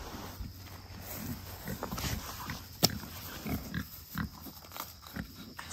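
Pigs on an off-grid homestead grunt and snuffle in a run of short, low bursts close by, with one brief sharper squeal or knock partway through and steady outdoor background noise.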